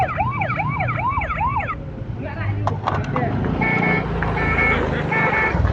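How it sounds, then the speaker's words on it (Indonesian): Wailing siren from a white toy model ambulance with red markings, a clear repeating two-tone sweep that runs for about two seconds before giving way to short clicks and a steady higher tone, with talk in the background. "Di sini sudah ada mobil ambulan."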